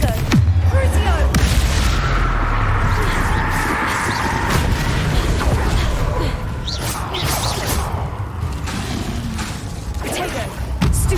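Booming spell blasts from Bombarda and Confringo in Hogwarts Legacy, heavy thuds and whooshes in rapid succession during combat, loud and continuous, with a voice calling out over the action.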